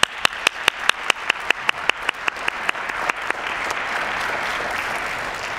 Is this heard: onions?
no